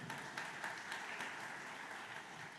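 A church congregation claps for the Lord during a Jesus Miracle Crusade preaching service, producing a continuous wash of applause that sounds somewhat distant and moderately quiet, with a few sharper claps standing out near the start.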